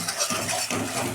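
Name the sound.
onion and tomato paste frying and stirred in oil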